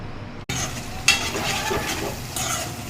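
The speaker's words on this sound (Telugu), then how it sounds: "దోరగా వేగిన తర్వాత వంకాయలు వేసుకోవాలి ఫ్రెండ్ అటు ఇటు తిప్పుకోవాలి" Eggplant and onion stir-fried in a pan for an egg curry, with a steady sizzle and scraping, stirring sounds running throughout and a few brighter clinks of the utensil against the pan.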